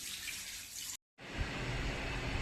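Water pouring steadily into a container outdoors in a Chhattisgarh village, a continuous splashing gush that breaks off briefly and then resumes, fuller and lower in pitch.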